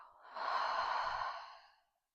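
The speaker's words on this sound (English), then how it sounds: "And exhale." A long, breathy exhale during a beginner Pilates mat exercise, swelling and then tapering off over about two seconds, close and fairly soft, with no talking.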